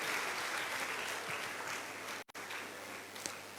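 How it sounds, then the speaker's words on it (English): An audience at a school awards ceremony for 2019 WASSCE distinction candidates claps in a steady, dense round of applause, heard from within the hall with a brief cut partway through. "A round of applause for Mr."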